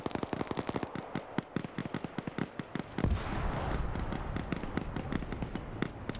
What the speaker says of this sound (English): let's set some secondary explosions off.